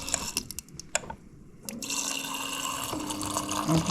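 Water running from a new refrigerator's water dispenser into a container, a steady filling flow rising after a few clicks and taps at the start.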